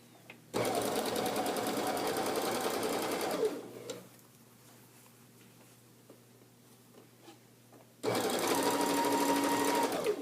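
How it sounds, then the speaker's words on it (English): A sewing machine stitches fabric for a welted pillow cover, a loud close steady whirring run for about three seconds, a quiet pause, then another run starting up. "Continue sewing."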